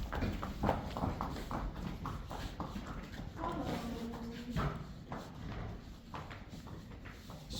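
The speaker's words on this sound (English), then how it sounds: "the dentist is coming for Bjarni and the other horses who need it." Soft, irregular hoof clops on a hard surface, fairly faint, with low background noise and a few muffled voices.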